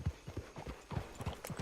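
Horse hooves clip-clop at a walking pace in Red Dead Online, a steady series of soft, fairly quiet thuds on the ground, with no talking over them.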